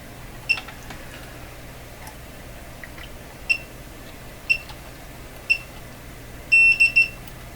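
Faint, high electronic beeps sound at irregular intervals over a low background hum, ending with a quick cluster of three beeps.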